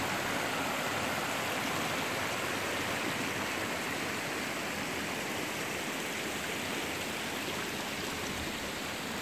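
A clear creek runs through Daintree rainforest at Cow Bay after recent rain, a steady, close, full rush of flowing water that holds unbroken throughout with no voices.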